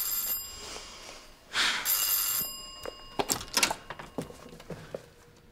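An electric doorbell rings inside a home early in the morning, a buzzing ring followed by knocks and door sounds, fairly close and without speech.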